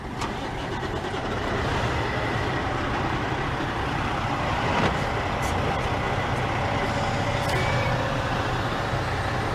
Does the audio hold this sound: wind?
no